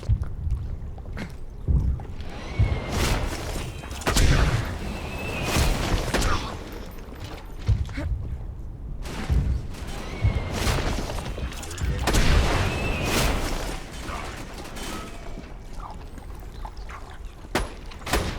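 Gunfire during a fight with Hyperion snipers in Borderlands 2, with repeated loud cracks and booming shots scattered through a busy, noisy game mix, and a voice talking over parts of it.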